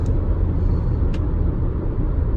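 A 2019 Jetta with the 1.4T engine pulling steadily up a 6% mountain grade, heard as a continuous low drone and road rumble from inside the cabin, holding one gear with no shifts.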